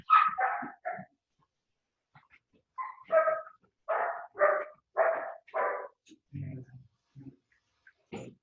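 A dog barks in a series of sharp, close barks in an indoor home setting, with a few lower yelping or whimpering sounds near the end and quiet gaps between bursts.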